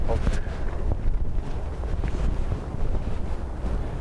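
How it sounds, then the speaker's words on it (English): Gusty wind at Dublin Airport during Storm Bram buffets the microphone in a steady, loud roar with rumbling surges, and a faint voice murmurs underneath. "So the wind is shifting direction quite rapidly, and that's what's carrying the engine noise as they spool up towards us louder than it normally is."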